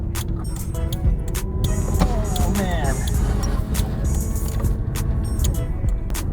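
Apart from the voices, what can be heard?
Toyota Celica driving around the block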